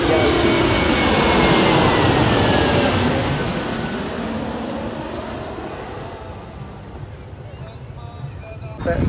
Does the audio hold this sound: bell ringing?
no